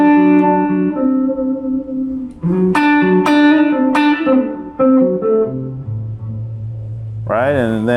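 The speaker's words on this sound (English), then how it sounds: "I've got some licks I can play, you know, blues type licks I can play in that position" Blues licks on an electric guitar, played as single notes and short bends with sustain, clear and loud in a one-to-one lesson setting, ending in a wavering bent note.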